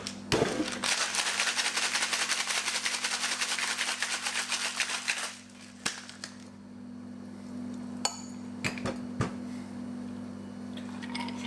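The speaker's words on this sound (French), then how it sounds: "Je remplis mon shaker." Ice rattles hard inside a cocktail shaker in a fast, loud, unbroken clatter for about five seconds, followed by a few scattered clinks and taps.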